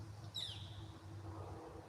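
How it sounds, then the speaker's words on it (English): A single bird gives a quick, faint chirp early on against a quiet low hum, brief and distant. "Y'all hear that bird?"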